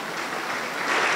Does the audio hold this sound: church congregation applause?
yes